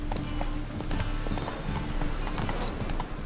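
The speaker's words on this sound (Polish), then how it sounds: "można tu konika wezwać? Chodź, koniku." Horse hooves clip-clop in a steady walking rhythm in The Witcher 3: Wild Hunt, loud and close, repeating throughout over faint game ambience.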